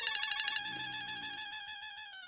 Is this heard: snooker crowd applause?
no